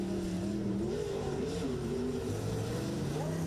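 Super Seven race cars lapping the Maryborough circuit during a live series race, engine tones rising and falling steadily through the whole stretch, with faint commentary barely present underneath.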